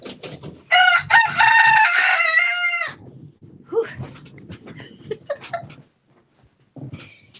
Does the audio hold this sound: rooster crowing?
yes